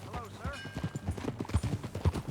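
Horse hooves clip-clop steadily in Red Dead Redemption 2, a close rhythmic beat with a brief whinny early on, under spoken dialogue.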